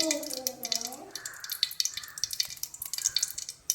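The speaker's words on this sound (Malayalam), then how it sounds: "നമുക്ക് നെയ്യ് ഒഴിച്ചു കൊടുക്കാമേ." Ghee poured into a hot pan on a stove crackles and spits in a fast, busy sizzle with sharp pops, heard up close and fairly quiet.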